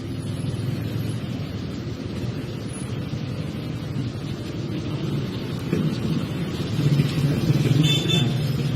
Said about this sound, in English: oh god, heavy traffic.